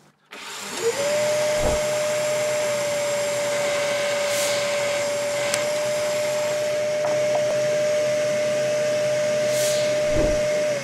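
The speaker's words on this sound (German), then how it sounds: "muss ich einen 15 mm Durchmesser Forstnerbohrer haben" A drill with a 15 mm Forstner bit bores a recess into wood. The motor spins up quickly into a loud, steady whine that holds close for about ten seconds before winding down.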